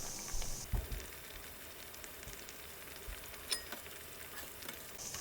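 Beetroot vadai fry in oil over a flame set between low and medium, giving a faint, steady sizzle with a few soft clicks and knocks close by.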